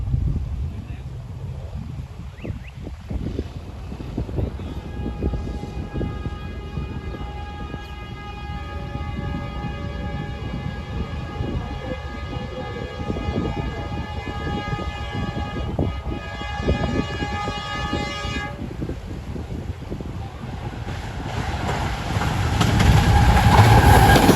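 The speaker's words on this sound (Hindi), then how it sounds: "42 डाउन कराकोरम एक्सप्रेस आ चुकी है जियो 40 29 के साथ।" The 42 Down Karakoram Express pulls into Dabheji railway station behind a GEO 40 series diesel locomotive, with a steady rumble of rolling wagons and a sustained multi-tone horn blast through the middle. The noise swells toward the end as the train passes close by.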